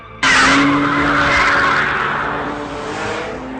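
A car's tires squeal loudly in a long, sustained skid as the engine roars close by, the screech fading slightly toward the end.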